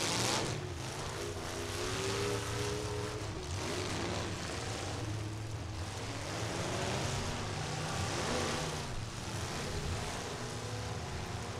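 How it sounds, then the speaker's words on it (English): A race car with a freshly built engine being broken in during a youth full-size race at Bash for Cash 2023, its engine droning steadily and loudly throughout with a sustained, rising and falling tone and no talk. "Breaking in that new engine right."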